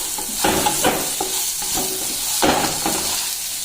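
Bitter gourd with chillies being stirred and mixed in a frying pan, a steady sizzle under repeated scraping strokes of a spoon against the pan, close and fairly loud, with no talking.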